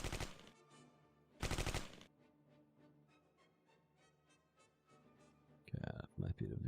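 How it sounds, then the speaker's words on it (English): Machine gun fire from a WWII tactical battle in the game Close Combat 3, with two loud, dense bursts early on, a quieter stretch of ticking battle noise, then sharper shots near the end, with talk throughout. "Okay, that's us shooting at the enemy."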